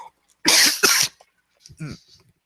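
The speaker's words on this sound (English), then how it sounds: "I know there's a weird cough" Two harsh, close coughs in quick succession, followed by a short pause and a brief throaty vocal sound.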